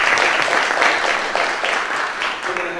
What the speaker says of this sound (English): Please give a round of applause to our speakers.